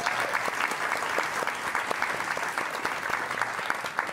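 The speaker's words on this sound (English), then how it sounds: "let's give a warm round of applause" Steady, dense clapping from a live cooking-show audience, continuous and fairly even throughout, with no voices standing out.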